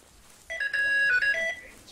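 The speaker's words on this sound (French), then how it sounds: "Je crois que c'est le téléphone, Gaël." An electronic telephone ringtone plays in the video game Hemmeldal: one loud, melodic, tonal ring about a second long that rises and falls in pitch, with no voices over it.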